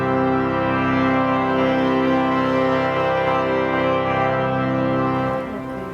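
Pipe organ in Aarhus Cathedral sounding a sustained soft chord with the swell doors closed, a muffled, steady and rich tone that holds for several seconds before easing off near the end.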